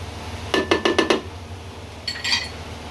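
Spoon or spatula clinks against a cooking pan while chilli and turmeric powder are stirred into browned onions: five quick metallic taps in a row, then a softer scraping rattle a moment later.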